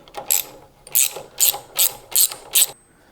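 A hand ratchet clicks in six quick bursts, close and loud, as it loosens a nut on the swing arm bolt of a 2024 Kawasaki KLX300, with no talking.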